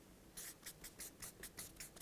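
A marker writing on a board in a series of short rhythmic squeaky strokes, about seven in quick succession, faint and close, with no talking over it.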